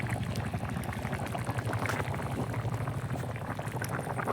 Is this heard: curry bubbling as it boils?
yes